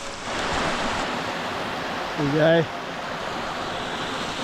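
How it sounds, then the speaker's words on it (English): Small cascade on a creek in Tasmanian bush, a steady broadband wash of flowing water throughout, with a brief spoken phrase layered over it midway. "Little tiny cascade, really cool."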